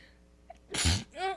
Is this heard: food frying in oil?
no